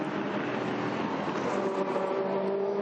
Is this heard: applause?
no